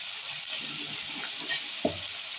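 Sliced tomatoes sauté in a clay pot for a sundakkai puli kulambu, a steady close sizzling hiss with soft crackles and a light stirring scrape, no talking.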